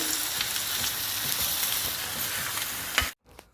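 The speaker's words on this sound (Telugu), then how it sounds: "గోంగూర పచ్చడిని 4-5 నిమిషాలు ఆయిల్లో వేయించుకోవాలి." Gongura chutney frying in oil in a tempering pan, Guntur style, gives a loud, dense, continuous sizzle up close. It cuts off abruptly near the end, and a faint sound follows.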